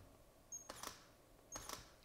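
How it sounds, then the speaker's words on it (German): A Sony camera shutter fires in continuous mode, with two quick clusters of sharp mechanical clicks about a second apart, close and quiet, with nothing else heard. "drückt man einmal hier auf die Taste, müsste die Kamera 5 Bilder hintereinander machen"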